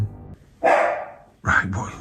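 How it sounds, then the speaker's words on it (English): A dog gives loud, sharp barks from upstairs in a house during a camping trip, two distinct barks a moment apart, sounding somewhat distant and reverberant, with a low voice briefly at the start. "Then Bear suddenly let out a loud bark from somewhere above them."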